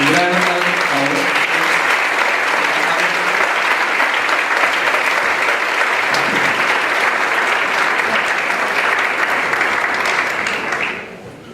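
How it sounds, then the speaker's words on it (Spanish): Sustained, loud audience applause for a panel of speakers at a conference, a dense steady wash of clapping that runs for about eleven seconds before cutting off abruptly, with a brief voice heard at the start. "Un gran aplauso, por favor."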